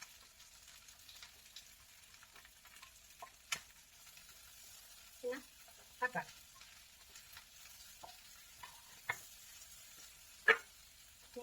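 Green chillies and onion fry in oil for a chicken dish, a faint, low hiss of sizzling with a few soft spoon clicks and stirring scrapes scattered through a quiet stretch.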